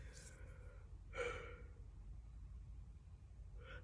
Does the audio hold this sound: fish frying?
no